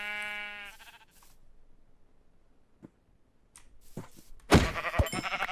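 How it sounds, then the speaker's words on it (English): A sheep in the video game Minecraft gives a short bleat at the start, then quiet with a few soft ticks before louder bursts of game noise, no talking. "Freaking hate sheep in this game."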